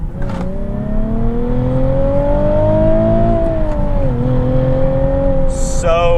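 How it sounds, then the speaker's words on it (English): A Nissan 370Z Nismo accelerates hard up to its 7,500 RPM redline, the engine note climbing steadily and loudly through the gears, with a brief dip at a shift before rising again. "It just pulls all the way up to redline."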